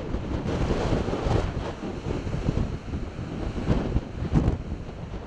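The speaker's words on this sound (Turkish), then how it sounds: "Metrelerce yüksekliğe çıkan dalgalar böyle görüntülendi." Storm-driven waves pound a harbor while strong wind buffets the microphone, producing a loud, continuous roar of surf with repeated heavier surges and no voices.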